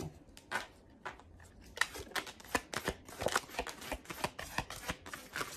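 Tarot cards being shuffled by hand for a reading, a run of quick riffling bursts and soft slaps repeating at an irregular rhythm, close and fairly quiet with no talk.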